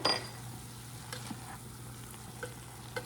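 Oregano, garlic, cayenne, hot paprika, Italian seasonings and sugar cooking together in a pan, giving a soft steady sizzle with a faint low hum and a few light stirring clinks.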